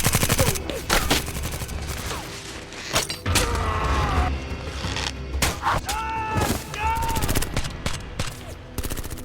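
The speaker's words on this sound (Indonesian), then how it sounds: "tiba-tiba mereka diserang oleh sekelompok tentara bayaran anak buah si kolonel dan terjadilah aksi tembak-tembakan" Heavy gunfire from an action film shootout, with mercenaries attacking: dense, loud bursts of shots and rapid fusillades that keep going over several seconds, mixed with booms, mechanical clatter and other film sound.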